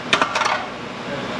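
A metal heat shield dropping off a Dodge Ram 1500 5.7 Hemi engine, a few quick bright metallic clanks and rattles in the first half-second, then fading to quiet.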